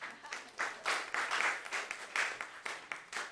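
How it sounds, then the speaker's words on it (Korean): A Korean church congregation at a Sunday morning service breaks into applause, with rhythmic bursts of clapping that rise and fall in waves, loud and close. "박수 한번 쳐주세요, 여러분."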